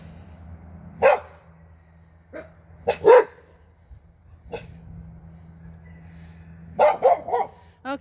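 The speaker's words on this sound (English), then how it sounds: "Oh, it's a dog on the other side of the fence." A dog barks behind a fence, a few sharp barks in separate bursts with quiet pauses between, then a quick cluster of barks near the end. It sounds moderately close, over a low steady background hum.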